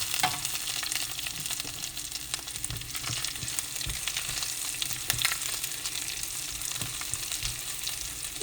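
Oil sizzles steadily in a pan as it browns for okra sabzi, a continuous crackling hiss with occasional soft stirring clicks close by, and no voices.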